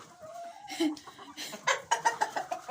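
Broody hens cluck in a short run of soft, close calls that grow louder and quicker toward the end, with faint talk in the background.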